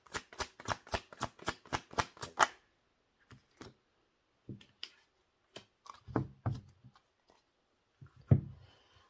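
Tarot cards are shuffled in a quick run of about ten crisp riffling snaps, then single cards are drawn and laid down with soft, scattered slides and taps, close up and with no talking.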